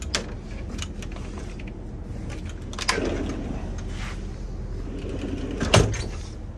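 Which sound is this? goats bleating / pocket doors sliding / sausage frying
pocket doors sliding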